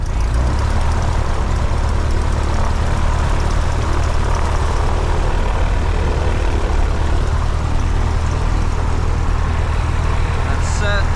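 Small training airplane's propeller engine running loud and steady, a constant broadband drone with strong low rumble throughout, close to the microphone.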